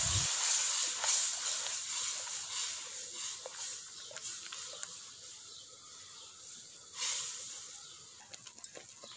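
Milk poured into roasted semolina in a pan for village-style halwa sizzles as a strong, steady hiss that fades gradually, with a few soft clatters and a second hissy surge near the end.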